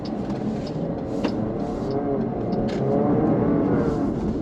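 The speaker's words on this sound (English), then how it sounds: "we have turned on sport mode, and so I'm going to see what that feels like. Do a quick acceleration here." Jeep Grand Cherokee 4xe plug-in hybrid SUV accelerating hard in sport mode, a steady loud engine and road roar building slightly over a few seconds, heard from inside the cabin with no talk.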